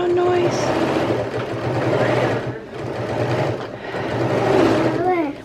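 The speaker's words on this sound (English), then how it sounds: "What am I doing? I'm sewing." A sewing machine runs steadily while stitching seams on a Simplicity 8612 garment, with a continuous whirring motor hum and a brief dip in speed partway through, up close and loud.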